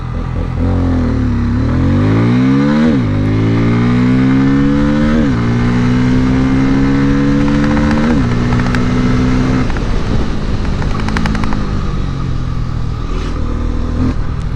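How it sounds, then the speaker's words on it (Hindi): A motorcycle, a 2024 Honda Hornet or Bajaj Pulsar N250, launches hard from a standstill for a 0 to 100 run, engine loud and close, climbing through several rising gear pulls with brief dips at each shift. "सो चलो यहाँ से एक बार लॉन्च करते हैं 0 to 60 एंड 0 to 100 देख लेते हैं।"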